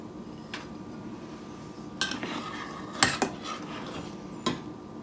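Garden vegetable soup being served into dishes, with several sharp clinks of a ladle and utensils against pots and bowls spaced through the clip, close by over a low kitchen background.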